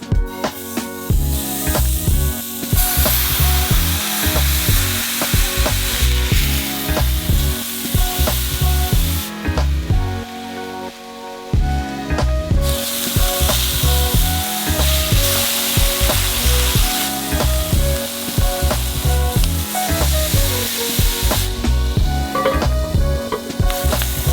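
Smash burger patties sizzle loudly in a cast iron pan, a dense constant hiss and crackle broken by scraping and pressing sounds, close and continuous with no talking.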